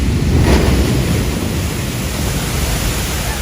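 Heavy water pours and splashes down in the Jurassic Park ride area at Islands of Adventure, Universal Orlando, a loud, steady broadband roar like standing under a waterfall, with no voices.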